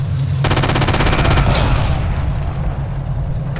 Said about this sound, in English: I'm also getting shot at.